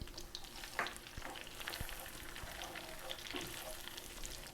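Brown sugar sizzles in melted butter in a skillet, a steady close frying hiss with occasional stirring scrapes and small pops throughout.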